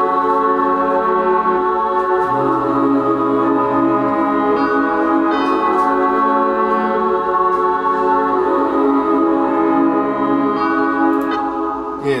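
A hip-hop beat with a bell accent layered over dense, sustained melodic tones, playing loud and steady for the full length with no voices.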